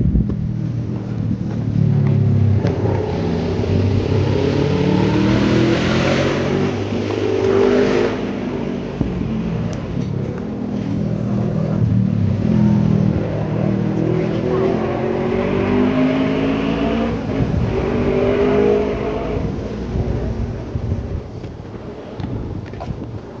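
Engine of a motorcycle on a long-distance ride in Negros Occidental, a steady droning hum with shifting pitch as it speeds along, heavily mixed with loud wind rush over the microphone.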